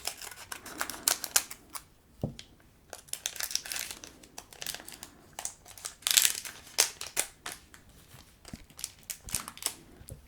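Small scissors snip and crinkle through the foil wrappers of Pokémon booster packs, producing dense, close, crisp cutting and crumpling sounds in irregular bursts with short pauses, with no voice heard.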